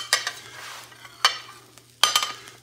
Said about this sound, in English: Now, we're gonna scrape